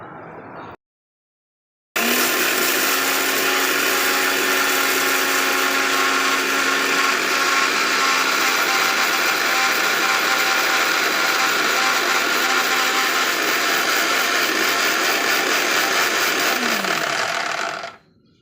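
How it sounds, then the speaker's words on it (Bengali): A new mixer grinder grinds dry mustard and poppy seeds into a paste, running as one loud, steady high-pitched whirr for about fifteen seconds before winding down, with no talking over it. "সর্ষে আর পোস্ত নিয়েছি এটা এখন মিক্সিতে পেস্ট করে নেব"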